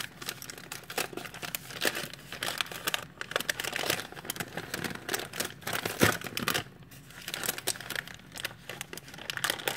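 Paper wrapping on a mailed parcel is peeled open slowly and carefully, with steady close crinkling and crumpling plus a few sharper tearing rustles throughout.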